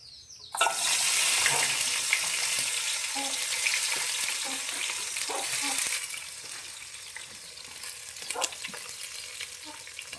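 Fenugreek, mustard seeds and onion hit hot oil for a dried anchovy curry, bursting into a loud, dense sizzle that stays steady, with scattered pops and stirring scrapes close by and no voices.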